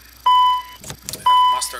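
Battery self-test in a CRJ-200 flight simulator game: two sustained electronic beeps about half a second each, separated by a brief burst of clicks and noise, clear and close.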